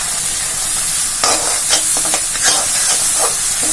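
Roasted peanuts are stirred into a tamarind mixture frying in oil: a loud, steady hiss and sizzle with repeated scraping stir strokes close by.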